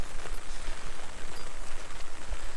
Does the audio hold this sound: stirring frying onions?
no